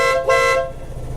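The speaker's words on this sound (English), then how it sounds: "I'll give you an idea what the horn sounds like." Horn of a Vespa GTS 300 scooter, a single loud honk of just over a second with a slight swell midway, heard up close with no talking.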